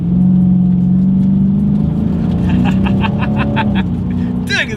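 A 2020 Dodge Challenger R/T Scat Pack accelerates hard with its tires spinning, a loud, close, continuous engine roar that climbs as it revs, while someone talks over it.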